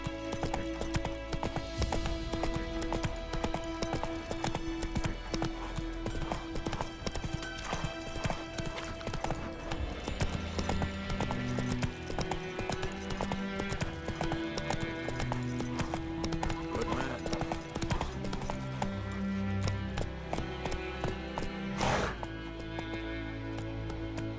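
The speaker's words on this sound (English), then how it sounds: "Whoa there, Roach" Horse hooves from The Witcher 3: Wild Hunt (2015), a steady rapid clip-clop of a ridden horse heard throughout, close and continuous under game music and ambience, with a whinny near the end.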